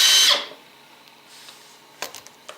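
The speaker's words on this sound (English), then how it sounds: "So I'm going to use my drill here." A cordless drill spins briefly to back out a screw on a Suzuki DR650 side panel, one loud whirring burst at the start, followed by quiet handling clicks and taps close by.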